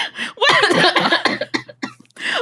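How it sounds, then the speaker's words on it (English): A burst of harsh, close coughing, several quick coughs in a row followed by a few smaller ones. "It's probably my cough that I did."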